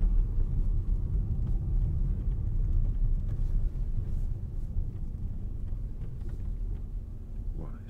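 A 2025 Peugeot 5008 mild-hybrid rolls along a smooth road, giving a low, steady rumble of road and engine noise inside the cabin, with no voices.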